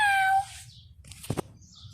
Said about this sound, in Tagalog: Ay, ito yung pusa namin